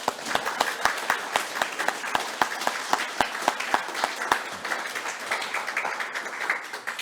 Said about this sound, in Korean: 여러분, 우리 한번 같이 축하 박수 합시다.